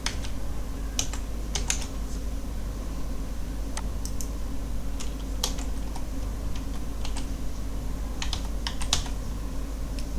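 Someone types on a computer keyboard in short, uneven bursts of light key clicks, heard close over a steady low background hum.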